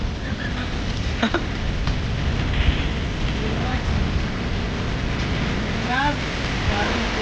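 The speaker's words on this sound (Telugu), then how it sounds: "water falls" A waterfall roars as a steady, dense rush of falling water throughout, with faint voices in the background.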